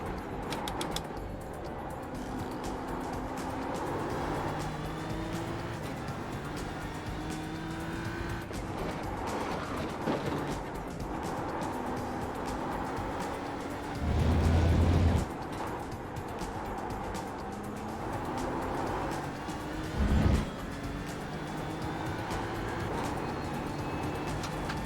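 GT3 race car lapping Sonoma in the iRacing video game, its engine note steadily climbing and dropping through gear changes, with brief tire squeal and two short thumps along the way, loud and continuous throughout.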